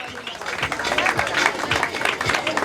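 A crowd applauds a cyclist at a cycling award ceremony, a dense, steady patter of clapping that carries on throughout under a speaking voice.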